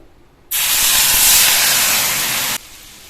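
Water poured onto a hot tawa before cooking an atta kulcha erupts into a loud, sudden burst of steam hiss that holds steady for about two seconds, then cuts off abruptly.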